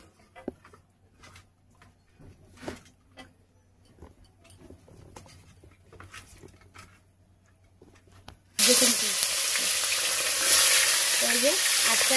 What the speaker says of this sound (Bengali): তো সবার প্রথমে মাছটা ভেজে নেব